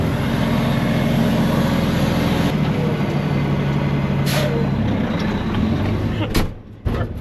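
A dump truck unloads at a landscaping yard, heard as a steady loud rumble of idling diesel engine and scraping load, with a brief hiss and clatter near the end while people talk nearby.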